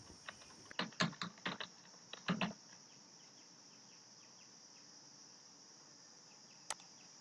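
Network name and key are typed on a computer keyboard: a quick run of close, crisp keystrokes in two short bursts, then quiet with one last click.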